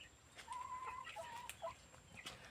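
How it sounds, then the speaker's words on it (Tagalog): Native chickens cluck in short, faint bursts nearby, their calls broken and irregular, with no talk. "Yung mga native na manok."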